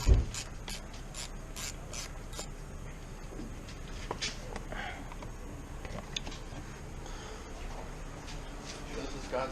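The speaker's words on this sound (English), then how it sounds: "Oh, my electric ratchet?" An electric ratchet on a 1996 Ford F150 during a throttle body repair gives a series of close, clicky mechanical bursts and gear whirs, spread irregularly across the clip with faint background noise.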